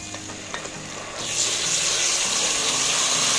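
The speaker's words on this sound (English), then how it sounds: "Add in your tomato paste." Tomato paste goes into a pan of frying pilau spices and is stirred, and a loud, steady sizzle swells up about a second in and holds, with scraping and stirring underneath.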